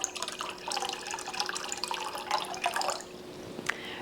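Water is poured into a 2-quart crock pot, a steady close splashing trickle with small drips and a few sharper plinks near the end, no talk.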